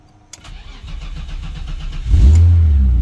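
A BMW E36 in neutral cranks with a rhythmic starter whir for about two seconds, then its engine catches with a loud low roar and settles into a steady, close idle.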